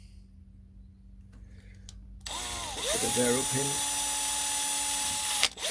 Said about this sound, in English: I'll just drill the remainder of these holes